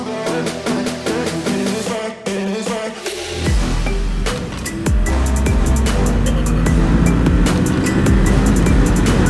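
A 2020 Ducati Supersport S motorcycle on the move, with the engine revving and climbing up through gears under heavy wind rush, loud and close throughout, with no one talking.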